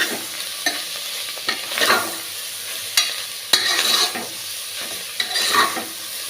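Chunks of goat tripe (mutton boti) stirred in hot oil in a pan, with a steady sizzle broken by several sharp scraping strokes of a spoon against the pan, close up and with no voices.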